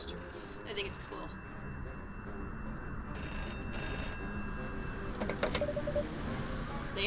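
A telephone rings in a video game with repeated bright bell bursts over a low background hum, moderately loud, and faint voices are present.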